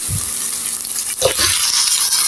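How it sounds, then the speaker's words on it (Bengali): Onion fries in a pan with a constant, loud, close hiss of hot oil, briefly punctuated by a couple of soft scraping stirs, with no voices. "আমি হালকা একটু ভেজে নিচ্ছি পেঁয়াজটি"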